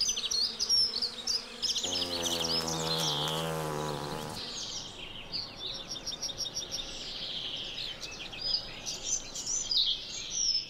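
Bees buzzing among flowering trees in a spring orchard, a steady dense hum with a louder, nearer drone swelling for a couple of seconds, while small birds chirp and twitter throughout.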